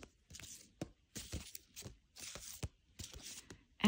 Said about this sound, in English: Just going to shuffle it a little bit more.